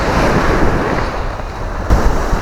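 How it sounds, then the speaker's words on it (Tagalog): Ocean surf washes onto a beach at a resort, a loud continuous roar of breaking waves mixed with gusty wind buffeting the microphone, with a sharper surge near the end. "dito na kami sa dagat."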